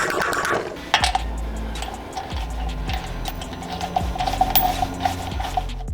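A torque wrench ratchets while tightening a billet flywheel onto the crankshaft of a 670cc Predator V-twin engine. The clicks come in quick repeated bursts up close, with metallic thunks between strokes and no talking.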